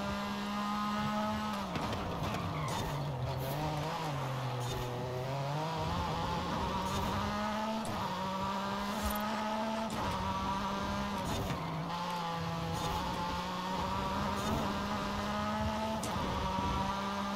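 A Porsche RSR race car roars through Forza Horizon 5, its engine holding a steady, loud, buzzing howl that dips and climbs with gear changes, with brief tire squeal and no talk.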